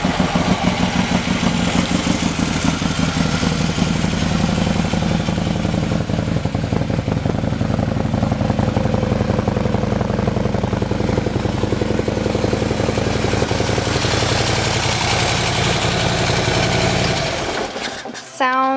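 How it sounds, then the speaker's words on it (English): A 2015 Harley-Davidson Road Glide Special fitted with a Screaming Eagle exhaust idles nearby, its loud, steady lumpy V-twin rumble running unbroken for nearly twenty seconds before cutting off with a brief clatter at the end. "Let's listen to the exhaust."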